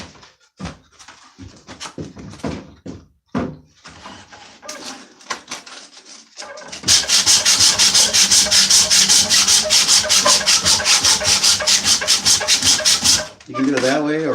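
Wood is sanded by hand with a palm-sander sandpaper sheet, first in short scattered rubs and scrapes, then a long, loud, rhythmic back-and-forth rasping of quick even strokes that stops abruptly near the end.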